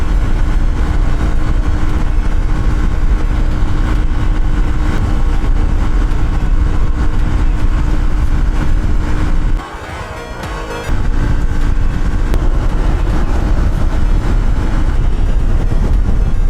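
A motorcycle cruising at over 100 km/h on a highway from Dhaka toward Madaripur makes a loud, steady roar of engine and wind rush that briefly drops out for about a second midway, with no talking.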